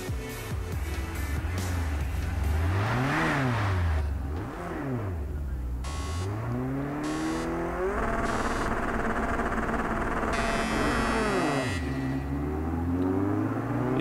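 Race cars pulling away from the start in the Project CARS 2 video game, engines revving and rising in pitch through repeated gear shifts, loud and close, with several cars howling together.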